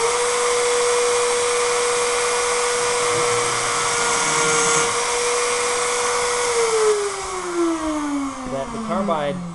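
A carbide burr grinds steadily into a hardened grade 5 or grade 8 steel bolt, a loud continuous high-pitched whine from a rotary tool that drops in pitch near the end as it bites harder.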